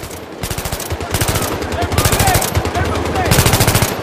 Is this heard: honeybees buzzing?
no